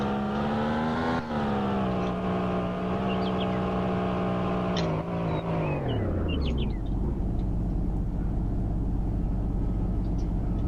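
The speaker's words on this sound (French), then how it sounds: "la voiture qui vient de passer à ta gauche" A car engine drones steadily and close, its pitch sliding down as the vehicle passes and moves off, leaving a low road rumble. The setting is a street during a police patrol.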